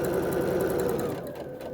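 A sewing machine stitching a seam on a fabric face mask, a loud steady rapid mechanical whir close by that slows and drops away near the end, no talking.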